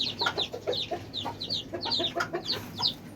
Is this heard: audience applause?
no